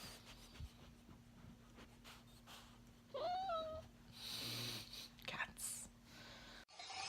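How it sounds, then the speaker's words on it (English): A cat vocalises in a small space, probably a car, with a couple of rising meow-like calls and some shuffling over a steady low hum. A person's murmuring voice is also present. "Cats."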